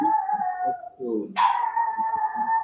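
A dog howls in long, sustained wails, broken by a brief whimpering yelp partway through, fairly close and loud against a soft background.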